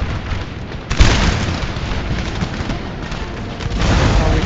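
Booming cannon and crackling musket volleys in a Napoleon: Total War battle at Le Havre, a dense continuous roar with a heavy blast about one second in and swelling gunfire toward the end.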